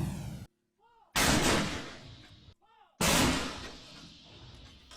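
Two 105 mm howitzer rounds fire in succession during fighting near Butig, Lanao del Sur, each a loud, close boom with a long rolling decay, separated by short gaps of near silence.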